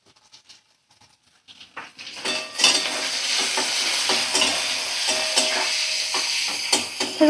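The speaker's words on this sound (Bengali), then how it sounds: "একদম মিডিয়াম ফ্লেমে রেখে হালকা করে আলু পেঁয়াজ আমি দেখো ভাজা করে নেব" Potatoes and chopped onion with turmeric start frying on a medium flame after a few quiet taps, then a steady close sizzle runs under repeated stirring scrapes and clinks, with no talk.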